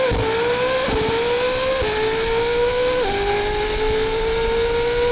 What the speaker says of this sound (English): let's do one more launch in auto